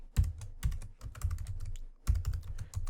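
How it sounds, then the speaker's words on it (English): Keys clatter on a computer keyboard in quick bursts of sharp clicks, a short run of taps, a pause, then another flurry, close and clear with no voices. "we're going to type out meta"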